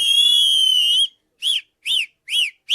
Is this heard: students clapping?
no